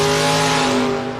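A small-tire Camaro drag car running in the 7s accelerates hard at close range, its loud, steady engine roar held for the whole moment with strong harmonic drone and no talk.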